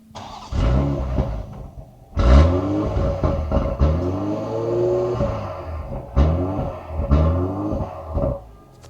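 Engine of a 2024 INEOS Grenadier Quartermaster pickup revved repeatedly, with several sharp throttle blips rising and falling over a low idle, heard up close with no talking.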